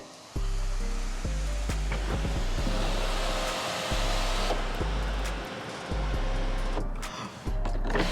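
Panoramic sunroof on a 2021 Hyundai Sonata Limited opening, a loud, steady electric motor whir and rushing hum that runs nearly the whole time, with brief dips and clicks as it stops and restarts.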